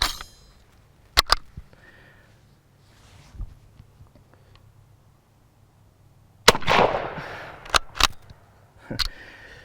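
An M91 Moschetto Carcano cavalry carbine in rough condition fires outdoors, sharp single cracks spaced apart with pauses, some echoing; quieter handling sounds sit between the shots.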